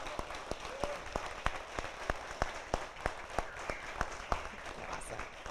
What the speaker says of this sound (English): Can we give a huge round of applause for our entire panel?